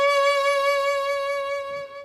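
A single bowed violin note with quick, narrow arm vibrato, sustained and clear, fading out at the end.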